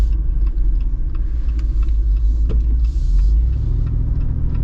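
Inside an AEV Wrangler 392 driving over bumps, a loud, deep road rumble and engine drone with knocks and rattles from the cabin as it rides over uneven ground.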